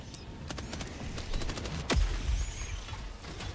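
Gunfire in a bug-hunting video game, with a strong single blast near two seconds among rapid repeated shots and clicks, loud and close.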